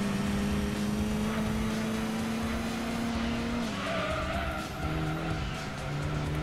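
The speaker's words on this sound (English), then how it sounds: "if you brake and turn at the same time in this game, you basically like spin out like crazy" Tires squeal in long sustained tones as a car spins out in the Gran Turismo 2 video game, engine drone underneath and the pitch sliding and shifting as the skid continues.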